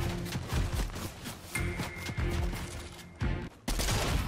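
Video game guns fire in rapid automatic bursts, loud and close, with clusters of sharp repeated cracks broken by brief pauses and a short gap near the end.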